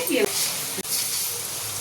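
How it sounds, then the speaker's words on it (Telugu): Rice flour chekkalu dough frying in hot oil, a steady bright sizzle with a couple of brief dips as pieces go in, close and continuous with no talk. "మొత్తం నూనెలో అటు ఇటు తిప్పుకుంటా 2 వైపులా ఫ్రై అయ్యేలాగా ఫ్రై చేసుకోవాలి"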